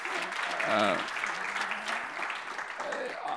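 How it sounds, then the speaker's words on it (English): Audience applause at a tech presentation event, a steady wash of clapping heard under someone speaking throughout. "I think we have to give them an applause"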